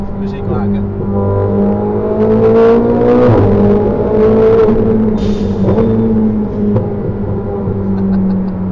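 A Ferrari 488 GTB with twin turbos, an Akrapovic exhaust and roughly 700 hp revs loudly nearby, its engine note climbing and falling in pitch over several seconds.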